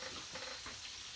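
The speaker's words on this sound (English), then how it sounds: "See this? Chicken's frying." Chicken frying in a pan gives a steady, soft sizzling hiss that runs evenly through the whole moment at low level, with no voices over it.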